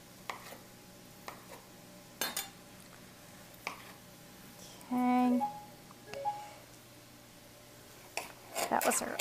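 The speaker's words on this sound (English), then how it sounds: "That was our oven letting us know it's ready" A kitchen oven sounds a short electronic beep sequence, a few clear tones in a row, to signal it has preheated, amid faint clinks of utensils and dishes during chicken cacciatore prep.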